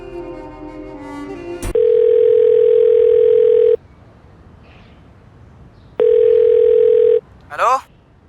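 A telephone call fails to connect: two long, steady electronic tones, each a couple of seconds, separated by a quiet gap, preceded by a short musical sting and followed by a brief voice.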